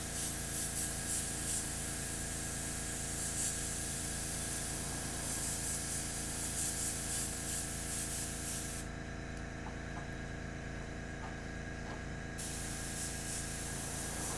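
Airbrush misting paint from a distance onto Warhammer Warcry terrain, a soft continuous hiss over a steady droning compressor hum, pausing for a few seconds before resuming.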